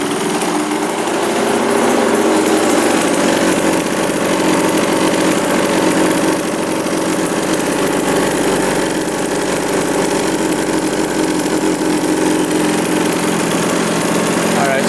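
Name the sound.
two-stroke dirt bike engine running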